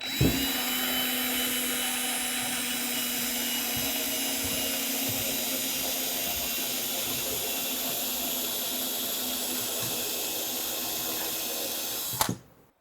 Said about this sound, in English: now we need a hole for that water to come out of, and I'm going to drill that right now